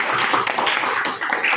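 Classroom students clap together for a short burst, close and dense, slightly uneven patter lasting just over a second.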